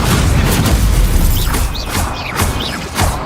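Fire spell casts in the Hogwarts Legacy video game burst out as loud, dense whooshing booms, followed by several short chirping magical whistles and pops over a continuous rumbling game soundscape.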